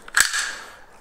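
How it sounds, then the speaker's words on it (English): Hose tubing being cut for a dry cooler hookup on an immersion mining enclosure, a single sharp, close snip with a brief bright ring fading out. "You are taking another part of the tubing, cutting it."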